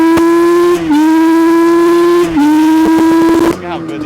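A 1995 Yamaha Banshee ATV is heard up close and loud as its engine holds a sustained high-pitched tone, dips briefly twice, then drops away near the end as the machine brakes hard.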